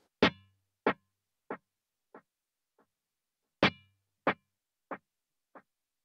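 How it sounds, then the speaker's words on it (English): A single plucked electric guitar note followed by fading dotted eighth delay repeats at 70 beats per minute, then a second note with its own trailing echoes, spaced evenly and dimming. "And then we have a dotted eighth delay at 70 beats per minute."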